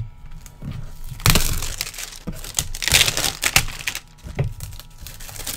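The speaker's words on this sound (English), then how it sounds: "Got the noisy cellophane." Cellophane wrapper crinkling and tearing as it is opened on a sports autograph helmet box, bursts of close, crackling rustles with irregular peaks and pauses.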